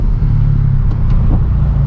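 The engine of a Honda Civic Type R FK8 hatchback, running in R mode, gives a loud, steady low drone heard from inside the car, with a faint whine rising over it.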